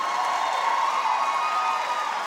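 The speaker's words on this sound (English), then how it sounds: "All right, don't cheer too much" A comedy club audience cheering and applauding, a sustained even wash of clapping and whoops with no breaks across the moment.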